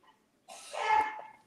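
A single sharp human sneeze bursts out close by, loud and breathy, peaking briefly before trailing off, during a casual watch party for a Spain versus Argentina World Cup match.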